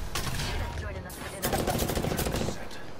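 Rapid bursts of gunfire from an Apex Legends team fight, loud and layered with bangs throughout, growing denser in the second half while players talk over the shooting.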